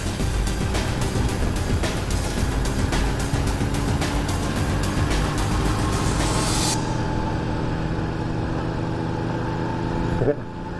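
A Yamaha SCR950 motorcycle engine rumbling steadily while riding, loud and constant with broad wind-blown noise that drops away near the end, someone talking over it.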